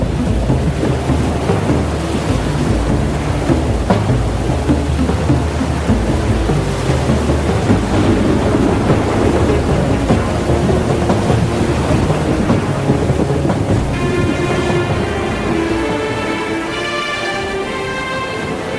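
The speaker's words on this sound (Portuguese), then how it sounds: "No meio do mar, surgiu uma grande tempestade que quase afundou o barco." A heavy thunderstorm at sea with a boat caught in it: loud, continuous rain and rolling thunder fill the whole stretch, and a faint tonal sound enters near the end.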